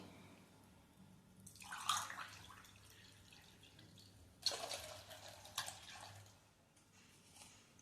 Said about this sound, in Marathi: आता ह्यात मी अजून 2 ग्लास तरी पाणी घालणार आहे.